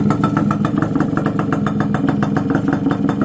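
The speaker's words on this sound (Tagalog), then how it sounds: "tahimik yung makina niya, hindi naman gaya ng sobrang ingay" A restored motorcycle engine idles steadily up close, its fast even firing pulses and mechanical clatter continuous and loud throughout, with no voices.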